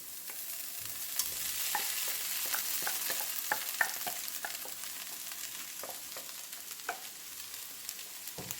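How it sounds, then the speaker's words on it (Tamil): Onion, ginger and garlic fry in oil in a pan for a shark puttu dish, giving a steady crackling sizzle broken by scattered sharp pops and light stirring scrapes, with no voices. "நாங்கள் போட்ட வெங்காயம், இஞ்சி, பூண்டு எல்லாம் நல்லா பொரிஞ்சு கமகமாண்டு நல்ல வாசனையாக இருக்குது"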